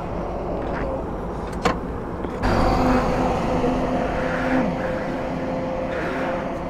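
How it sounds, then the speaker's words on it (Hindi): KTM Duke 250 and Suzuki Gixxer SF250 motorcycles in a drag race, engines droning steadily and then swelling louder as they rev up, with a brief sharp knock partway through. "ले चलेंगे आपको सीधा बाइक पे, दिखाते हैं ड्रैग रेस"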